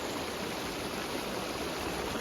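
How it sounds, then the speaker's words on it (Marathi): Strong floodwater rushing steadily across a flooded village field where fishing nets are set, a dense continuous roar of flowing water heard close and loud without a break. "पाण्याचा फ्लो खूप जास्त आहे"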